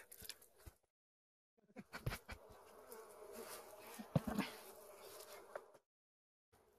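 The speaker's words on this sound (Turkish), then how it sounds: "Ama arılar rahat bırakmıyor." Bees buzzing steadily up close at a tree hollow as honey is taken, a dense droning hum that swells and fades, with brief quiet gaps at the start and end.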